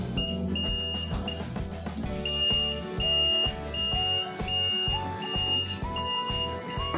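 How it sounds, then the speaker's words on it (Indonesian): An ATS inverter panel's buzzer beeps in short repeating bursts after a mains power cut, sounding over a busy background of music with a steady rhythmic pattern. "Seperti ini, ada bunyi tapi bisa dimatikan. Di situ buzzernya,"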